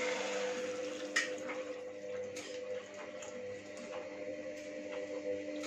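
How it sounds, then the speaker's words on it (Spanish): Water is poured into a pot over zucchini and potato, a steady, fairly quiet splashing stream with a faint hum in the background and no talking. "Y lo cubrimos con agua."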